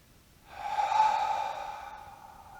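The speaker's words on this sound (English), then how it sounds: "Taking a deep breath in through the nose" A single deep inhale through the nose during a yoga session, a soft airy rush that swells and then tapers off, close and quiet, with no talking.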